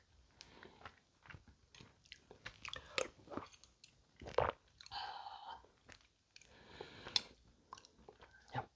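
Crunchy bites and chewing of dongchimi, a cold Korean radish water kimchi, eaten at a winter solstice meal; repeated close, moist crunches and mastication with brief pauses and no talk.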